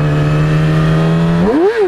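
A motorcycle engine holds a steady, loud drone, then revs sharply upward and back down as the rider pops a wheelie, close and alone.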